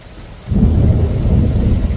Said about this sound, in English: I don't like thunderstorms